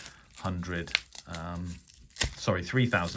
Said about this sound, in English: I'm unwrapping it now to double check.